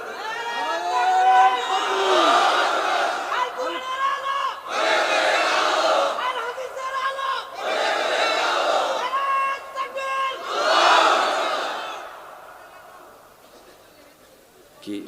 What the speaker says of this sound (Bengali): দেন স্লোগান